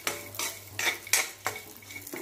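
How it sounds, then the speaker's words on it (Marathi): Dry fruits frying in ghee in a pan, with sharp metallic scrapes and clinks of a spoon against the pan in a quick uneven rhythm over a light sizzle, close and loud, no voices. "आता थोडेसे फ्राय करून घेऊया हे ड्रायफ्रुट्स"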